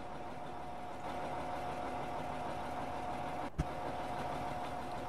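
A farm tractor in a farming simulation of northwest Ohio, ready for oat planting, idles with a steady low engine drone, moderately quiet, broken by one sharp click or knock midway.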